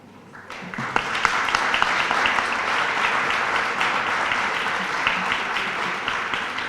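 An audience at an award nomination ceremony in a hotel breaks into loud, sustained applause that swells after a brief quiet start and carries steadily to the end.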